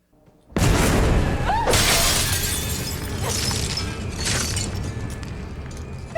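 Glass shatters with a sudden loud crash that breaks into a long, dense spray of falling shards and debris, continuing at high level for several seconds with no voices.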